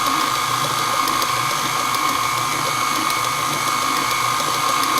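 An electric hand mixer beats lemon cake batter from a boxed mix at medium speed, a constant close whirring motor drone with a faint gritty rattle of beaters, unbroken and without speech.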